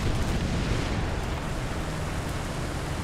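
A tank cannon shot in a war video game rumbles across as a dense, continuous blast of broadband noise that fades slowly over three seconds, loud and without speech.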